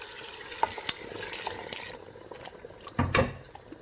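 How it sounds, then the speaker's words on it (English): Stock water goes into a pot of egusi soup with bushmeat, a soft liquid splash and sizzle with scattered stirring clinks, then a louder burst of pouring and bubbling near the end, with no voices. "So right about now, I'm going to add my stock water."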